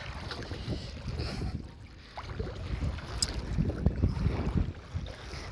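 A bangka, a Filipino outrigger boat, moves on water with a low rumbling engine churn, buffeted by gusty wind noise against the microphone.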